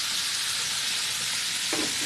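Chicken livers fry in a pan over medium-high heat, giving a steady close sizzle with a brief louder hiss near the end; no voices are heard.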